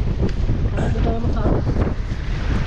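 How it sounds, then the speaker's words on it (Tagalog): Strong wind roars steadily against the microphone in a dense, constant rush, with surf faintly beneath it. "Ang lakas ng hangin, ayaw nila mag-surfing."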